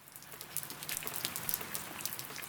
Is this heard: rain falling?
yes